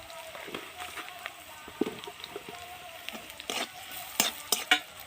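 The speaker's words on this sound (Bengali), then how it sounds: "পেঁয়াজগুলোকে আমি লাল লাল করে ভেজে নিচ্ছি" Onions frying in a pan as they brown, a steady sizzle broken by repeated scraping and clinking stirs that grow louder toward the end, with a voice partly talking over them.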